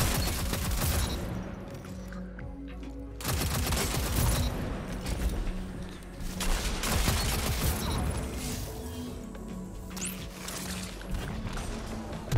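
Machine gun fire in a video game shooter rattles in long, dense bursts with a brief lull around the middle, loud and close, and scattered booms mixed into the sustained gunfire.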